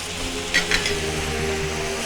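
Coriander powder, cumin seeds, pepper powder, red chilli powder and salt stirred through a hot frying pan, a steady close sizzle with a couple of quick scraping clinks of the utensil early on.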